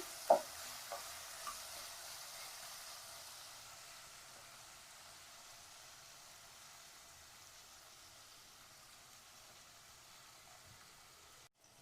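Ginger and garlic sauté lightly in ghee and oil in a pan, a faint, soft, steady sizzle with a few small utensil taps near the start, quiet and without talk.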